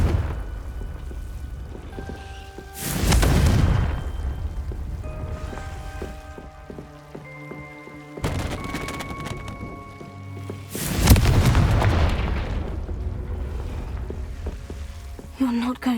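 Two Confringo blast spells explode in Hogwarts Legacy, each a loud, broad whooshing burst that fades out, separated by quieter stretches of ambient game sound with tonal hums.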